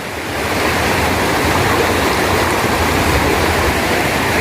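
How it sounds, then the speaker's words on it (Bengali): Strong floodwater in a flood-hit area near Barkhola rushes past as a loud, continuous, broadband roar of churning current, close and unbroken, with no talk. "আরে বহুত বেশি স্রোত রে বা"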